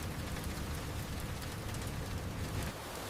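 Steady rain falling in a continuous dense hiss, loud and close, with no voices.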